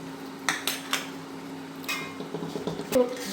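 A spoon scrapes and clinks against a pan while ground cumin paste is stirred into a shrimp curry, giving a few sharp taps and softer scraping strokes, close and fairly loud.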